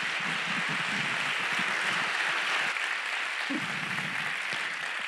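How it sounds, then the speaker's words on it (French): An audience at a civic speech in Nantes claps in a dense, sustained burst of applause, fairly loud and continuous, with a faint voice underneath. "je voudrais vous demander d'applaudir très fort toute l'équipe de la Fabrique du Changement"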